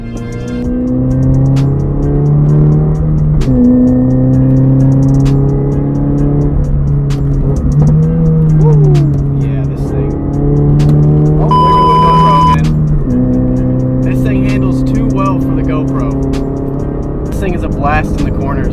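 A 2022 Subaru BRZ sports car engine with an aftermarket catback exhaust drones steadily at close range on back roads, its pitch climbing and dropping as it revs through gears, with a high whine briefly cutting in.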